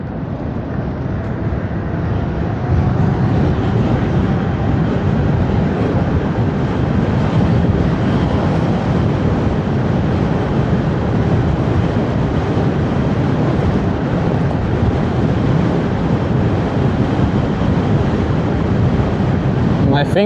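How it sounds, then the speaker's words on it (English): Loud, constant wind roar buffets the microphone while riding an electric bike at speed, a dense rushing noise that barely changes throughout. "It's so windy going up north."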